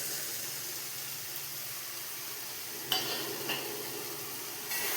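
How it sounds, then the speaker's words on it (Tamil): A spoon stirs sundakkai vathal tamarind curry masala in a pan for a wedding-style puli kuzhambu, making a faint, steady sizzle with a couple of soft scrapes near the end. "மசாலா வந்து அடி பிடிக்கக்கூடாது, நல்லா கிளறி விட்டுடலாம்."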